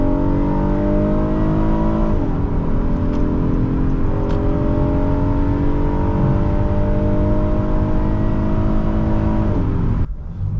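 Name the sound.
2020 Honda Odyssey Elite driving on test drive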